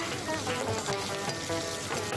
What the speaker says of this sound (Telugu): కొంచెం వేగాక పచ్చిమిర్చి ముక్కలు వేసి కలపాలి.